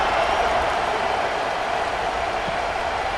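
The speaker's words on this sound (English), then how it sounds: "this crowd is buzzing after that last score" Stadium crowd cheering and buzzing in the College Football 26 video game, Tennessee versus Mississippi State, a steady dense roar of noise that holds constant throughout.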